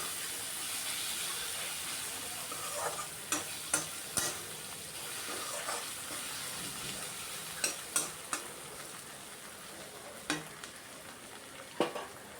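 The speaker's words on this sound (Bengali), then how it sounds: "এবার ঢাকাটা সরিয়ে আবার একবার নাড়াচাড়া করে নিচ্ছি পেঁয়াজ টমেটো" Chopped onion and tomato frying in a pan, a soft continuous sizzle and hiss under sharp scraping clicks of a spatula stirring against the metal, scattered irregularly through the stretch.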